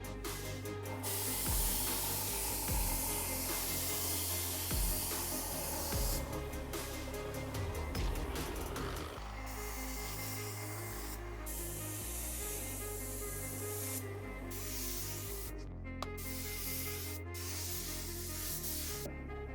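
Spray gun laying another coat of paint onto a 1957 Chevy body, a continuous close hiss broken by short gaps and changes in intensity, with no one speaking.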